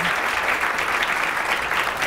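Audience applause welcoming Dr. Donna Craft onstage at a chiropractic Women of Wisdom event: steady, dense clapping from a full room, holding at an even level throughout with no voices over it.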